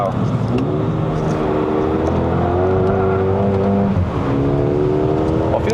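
A Mercedes-AMG GLA35 SUV climbs a mountain road uphill, its engine droning steadily with rising and falling harmonic tones and a dip around the midpoint, loud and continuous inside the cabin.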